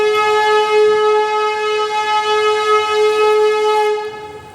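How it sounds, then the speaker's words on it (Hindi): A train horn sounds a loud, steady, sustained blast for about four seconds, then fades. The train is the 12767 Hazur Sahib Nanded–Santragachi SF Express departing Raipur Junction. No talk is heard. "6:23 पर हमारी ट्रेन निकल रही है रायपुर जंक्शन से"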